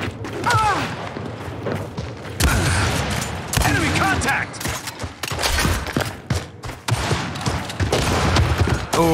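Rapid bursts of gunfire in a competitive 1v1 shooter match: loud, dense volleys of shots with brief pauses between them, and a player talking over the action.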